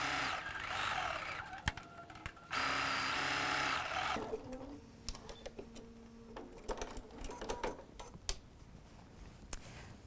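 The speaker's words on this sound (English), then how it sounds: "All right, let's go sew that." A sewing machine stitches a quilt block seam for a Christmas sampler panel, running in two sustained bursts at the start, then giving way to scattered clicks and handling taps.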